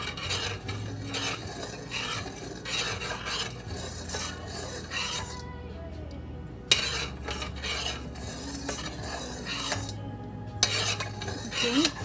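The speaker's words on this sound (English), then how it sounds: "Just keep mixing it till the sugar actually dissolves." A spoon scrapes and swirls steadily around a pan of sugar mixture for basbousa, a continuous close stirring with occasional metallic clinks against the pan.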